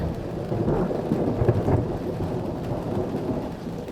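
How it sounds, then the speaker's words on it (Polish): A hailstorm with rolling thunder sweeps through a forest in a musical fairy tale, a steady dense wash of hail and rain under low continuous rumbling that swells briefly midway, with no voices. "i począł grad sypać z nieba, rozbijając się o leśne drzewa"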